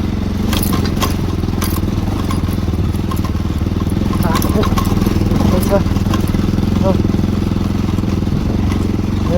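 A motorbike engine idles close by in cold weather with a steady low throb and faint rattles, running continuously while someone talks over it.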